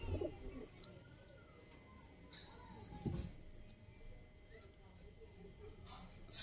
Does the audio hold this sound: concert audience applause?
no